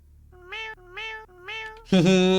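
A cat in the horror game Goodnight Me gives three evenly spaced meows close by, followed by a fourth that is louder and sharper. No talking is heard.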